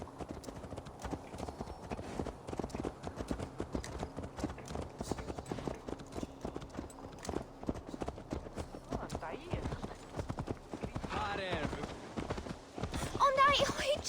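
Horse hooves clip-clopping at a steady walking rhythm in Assassin's Creed Valhalla, close and continuous under game ambience, with voices speaking near the end.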